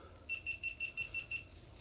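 A GoPro camera on charge gives a run of seven quick, evenly spaced high beeps, clear and moderately near in a quiet room, then stops.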